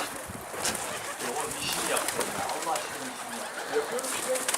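Pigeons coo softly amid a busy outdoor background, with people talking nearby and occasional rustling.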